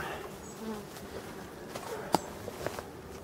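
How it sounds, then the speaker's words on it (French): Buzzing of a drone honeybee, a male bee near abandoned forest hives in hot weather, a steady faint insect drone close to the microphone with a few light footsteps and small knocks. "Un bourdon. Un faux bourdon, là."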